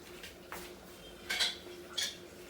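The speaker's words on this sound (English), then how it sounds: "Now I'm going to close the lid" Metal pressure cooker lid closed over radish sambar on the stove, giving a few faint clinks and a brief metallic clack, quiet and close, with no talking.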